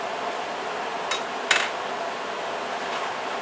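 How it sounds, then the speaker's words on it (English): A metal lid set onto a pot of simmering Spanish rice gives a brief clink, then a sharper clatter, over a steady hiss of cooking in a kitchen. "You put the lid on there."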